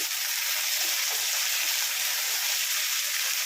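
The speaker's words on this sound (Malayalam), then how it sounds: "ഉപ്പിട്ടപ്പോഴേ ഒരു പൊട്ടലി ചിക്കനൊക്കെ എണ്ണയ്ക്കകത്ത് കേൾക്കാൻ തുടങ്ങിയിട്ടുണ്ട്" Hot oil sizzles and crackles steadily after salt goes into kovakka pachadi being fried in a pan, a loud, dense, continuous hiss with no talking.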